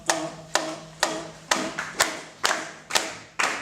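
Eight sharp hand claps at an even, moderate pace, each a crisp close snap with a short decay, a samba percussion pattern heard alone.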